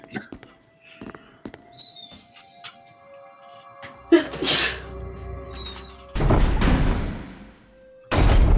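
One sharp, loud sneeze from a person nearby, set among soft thuds and faint chirps from Resident Evil gameplay.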